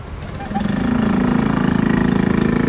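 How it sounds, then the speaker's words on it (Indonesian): An arriving ship's engine gives a low, throbbing drone that swells louder and settles into a steady rumbling pulse, with a brief faint high chirp early on. "Nah itu dia kapal. Berisik amat itu."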